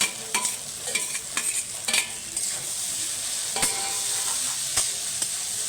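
A spoon stirs eggs through flattened rice pulao in a hot pan, with repeated scraping strokes and sharp taps over a soft, constant sizzle.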